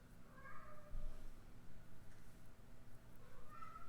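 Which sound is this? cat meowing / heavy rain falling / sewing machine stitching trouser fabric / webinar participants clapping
cat meowing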